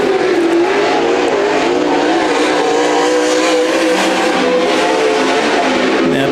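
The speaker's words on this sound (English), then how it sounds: "Now Declan Minchin gets his flying laps underway." A 360 sprint car races around the track at a state title heat, its engine roaring loudly and continuously with shifting pitch as it works through flying laps, no voices over it.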